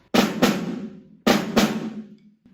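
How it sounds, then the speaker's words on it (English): Two snare drum flams, a left-hand flam followed by a right-hand flam, each a grace note and a main stroke struck close together, ringing out clearly and alone with about a second between them. "a left-hand flam, meaning the left hand plays the big note and the right hand plays the grace note,"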